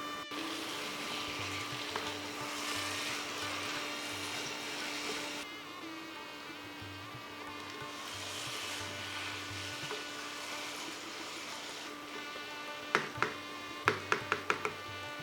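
Potatoes and fried fish bones sauté in spiced oil, giving a steady sizzle and hiss alongside a low background hum, with a quick run of sharp spatula taps near the end.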